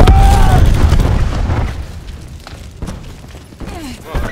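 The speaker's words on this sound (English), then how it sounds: "Cluster grenade." Cluster grenade blowing up in Call of Duty Black Ops 4 multiplayer: a loud, dense rumbling blast that fades over a few seconds with smaller pops and thuds following, mixed with game sounds.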